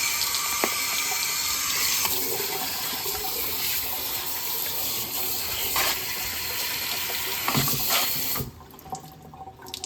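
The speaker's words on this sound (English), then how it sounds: "Gonna rinse these tomatoes off." Tomatoes rinsed under a running kitchen tap, a steady broadband rush of water into a sink lasting most of the clip, close and fairly loud, then cutting off abruptly near the end.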